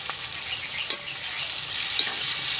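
Chopped onions fry in hot oil with salt and turmeric for chicken curry, a constant bright sizzle up close, with two brief clinks of stirring against the pan.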